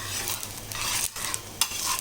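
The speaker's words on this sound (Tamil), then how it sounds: "இப்போ நம்ம இதை திருப்பி போட்டுக்கலாம் இந்த தோசையை" Paruppu adai dosa sizzling steadily in a hot pan as it is flipped over with a spatula, a close crackling fry broken by short scraping and clinking sounds.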